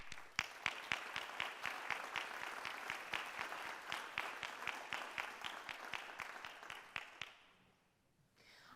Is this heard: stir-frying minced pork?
no